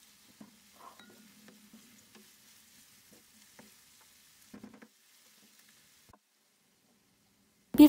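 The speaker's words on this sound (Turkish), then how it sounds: "Soğanların kokusu çıkana kadar kavurma işlemine devam edelim." Onions frying in plenty of oil and being stirred, giving a faint, quiet sizzle with a few soft stirring scrapes and a short louder clatter at the very end.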